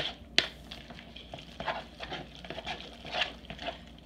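A meatloaf mixture with a quarter cup of milk is mixed by hand in a bowl, with soft wet squelching and scattered light knocks at close range, no talking.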